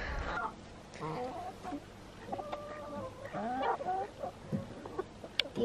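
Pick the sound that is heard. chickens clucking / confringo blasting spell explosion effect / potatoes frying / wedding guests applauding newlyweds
chickens clucking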